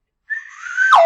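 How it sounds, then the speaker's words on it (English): A single slide whistle note rises and holds close and loud, then bends sharply downward at the end. "slide whistle"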